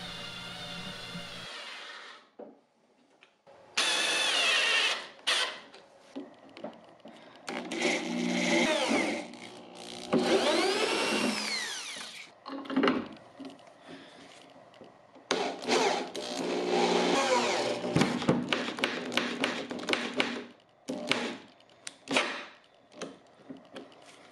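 An electric screwdriver drives screws to attach hairpin legs to a vintage wooden dresser, sounding as several whirring bursts of a few seconds each, separated by pauses, close and fairly loud.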